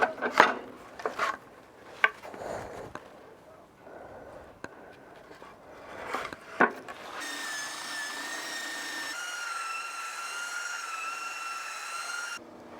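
A power tool bites into a timber frame for a marine double-glazed window, starting with several short, loud bursts of cutting and then settling into a steady, sustained whine for several seconds before stopping abruptly. No one speaks.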